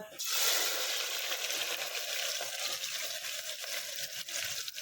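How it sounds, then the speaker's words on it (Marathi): Onion dropped into hot oil already crackling with mustard seeds and cumin gives a loud, dense, steady sizzle that starts abruptly and holds throughout, close to the pan with no one talking. "गरम तेल गरम झाल्यानंतर बघा याच्यामध्ये टाकते मोहरी जिरा आता टाकते कांदा"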